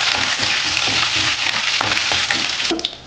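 Curry leaves drop into hot oil with urad dal, mustard seeds, cumin and a dried red chili, making a loud, continuous crackling sizzle with small pops and spatters throughout, no voices.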